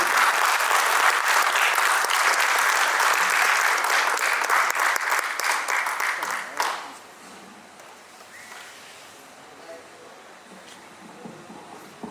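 An audience at a staging of a Maithili drama applauds the performers loudly with dense, sustained clapping that fades out after about seven seconds, leaving a quiet room.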